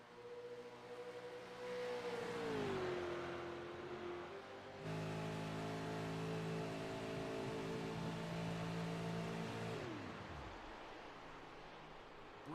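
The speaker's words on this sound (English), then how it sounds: "Shutting off the engine in the corner to try and save fuel to go the distance." A race car engine in the iRacing sim at Homestead-Miami Speedway drones steadily at high revs, its pitch dipping and then dropping sharply as the engine is shut off in a corner to save fuel.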